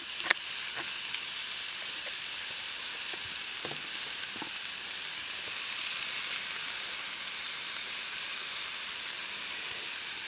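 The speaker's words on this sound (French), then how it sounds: "pendant que les saucisses sont en train de cuire gentiment et les lentilles, on va faire revenir" Lardons fry in a pan, producing a loud, continuous hissing sizzle with a few faint crackles and pops, heard close and alone without talk.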